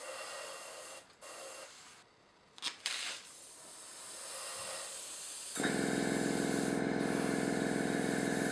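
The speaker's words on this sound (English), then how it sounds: "I'm going to just finely airbrush along around the edges of the panels." An airbrush hisses steadily while spraying Tamiya alcohol-based acrylic paint along the edges of model panels, a close, continuous airy spray with brief pauses, then a stronger, louder hiss in the last few seconds.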